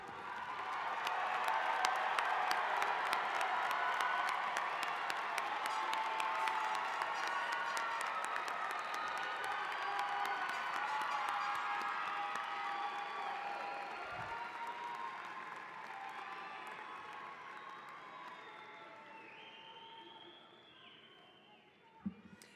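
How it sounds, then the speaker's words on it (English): Sustained applause and cheering from a large commencement audience honoring standing graduates of a college of health and human sciences at Colorado State University, dense clapping with scattered whoops that tapers off near the end. "Will the graduates please stand if you are able and give them a big round"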